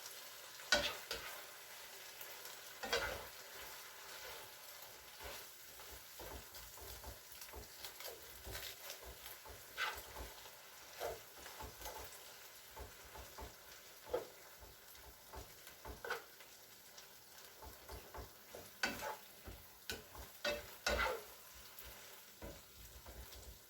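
Tandoori chicken filling with rice vermicelli cooks in a pan, a quiet low sizzle broken by frequent scraping and stirring strokes that come in irregular bursts.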